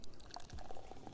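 Soda pouring into a glass in a radio advert inside the city-building game Cities: Skylines, a short fizzy liquid splash heard alone, fairly quiet, with no talking.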